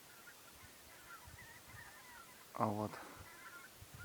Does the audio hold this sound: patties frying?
no